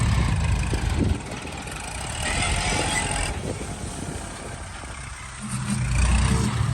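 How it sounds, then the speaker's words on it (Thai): A Kubota L5018 SP tractor fitted with a front loader idles with a steady, rumbling drone close by, with some rattling and a slight rise and fall in intensity. "ตัวรถไถเป็นคูต้า L5018 SP นะครับ"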